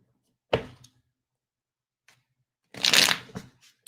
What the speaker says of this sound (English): As I'm shuffling for Miss Eva